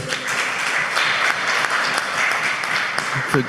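A round of applause at a conference, dense steady clapping that fills the room, with a voice briefly rising near the end.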